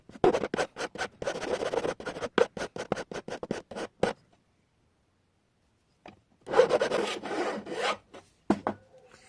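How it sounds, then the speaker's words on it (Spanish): A metal hand file rasps back and forth around the edges of a thin copper sheet while a bracelet is made, giving quick, close, steady strokes in two bursts separated by a few seconds of silence. "De esta forma se la vamos a quitar con la lima todo alrededor, y también aquí, acá y en la otra punta."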